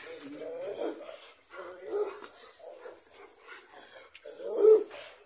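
Rottweiler dogs whining and yelping in short bursts, several agitated vocal outbursts at moderate distance with no speech.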